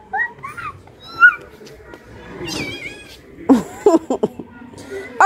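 A pet cat meows a few times in a home kitchen, short nasal calls mixed with children's chatter and laughter nearby, with clattering and other household sounds around it.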